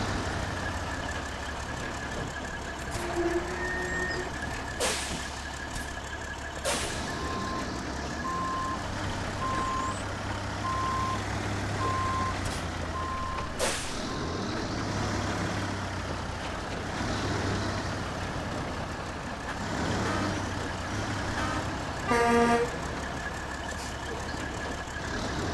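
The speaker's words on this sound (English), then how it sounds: "I am sending my own fuel truck over to the second map" A fuel truck in the Snowrunner video game rumbles along with a steady, heavy engine drone, overlaid by a string of reversing beeps and a few sharp clunks, with no talk.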